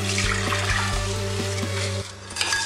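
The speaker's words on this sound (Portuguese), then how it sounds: "eu vou coar as lentilhas." Water draining steadily through a strainer as lentils are rinsed in a kitchen, a close, continuous splashing trickle with a faint rhythmic ticking underneath that drops off briefly near the end.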